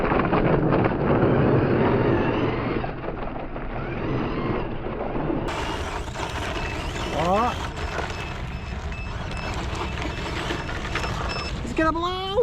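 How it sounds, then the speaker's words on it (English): Gusty outdoor wind buffets the microphone near a Kyosho Beetle remote-control buggy, heaviest in the first few seconds, then a steadier rumble under the whine of the car's electric motor, with brief rising motor sweeps near the end. "The wind is like blowing in all directions and it keeps switching"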